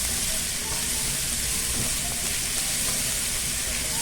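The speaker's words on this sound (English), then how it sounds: "So we'll saute this until the vegetables have softened" Vegetables sauté with basil and oregano for spaghetti pie, a dense, unbroken sizzle that holds close and loud throughout, with no voices.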